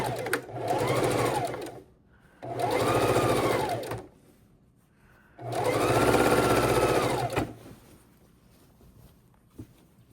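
A domestic sewing machine stitches quilt seams in three steady whirring runs, the last one longest, separated by short quiet pauses, close and even in level.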